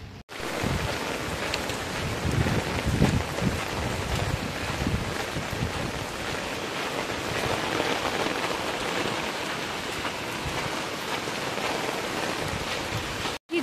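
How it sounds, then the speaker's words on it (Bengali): Heavy rain pours down outdoors on a street, a dense, steady hiss of drops striking surfaces with gusts of wind buffeting the microphone throughout. "জোরে বৃষ্টি নামলো"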